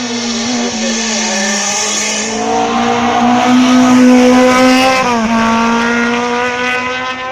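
A BMW race car climbs a hill course at the Quillan hill climb, its engine screaming loud and close with steady high revs, rising pitch and a brief shift dip.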